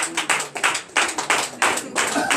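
Congregation clapping in rhythmic bursts during a night deliverance and prophecy church service, the claps coming in repeated grouped waves, fairly close and lively.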